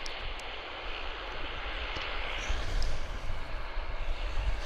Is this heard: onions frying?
no